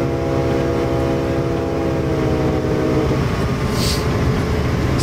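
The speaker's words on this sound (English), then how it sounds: "But it is an American freight train, after all." An American freight train in the Train Simulator 2015 game rumbles loudly and steadily throughout, with a brief, sharp high burst near the end.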